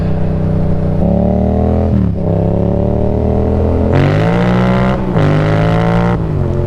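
Motorcycle engine revving hard in third gear during a power wheelie, loud and close, the pitch climbing in stepped surges with sharp shifts and brief dips between pulls, carried over wind rush.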